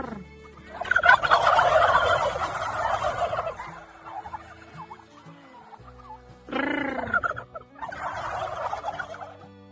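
Several turkeys gobble loudly nearby at a Minnesota turkey farm, in bursts, rapid warbling calls overlapping, with brief quieter pauses between flurries.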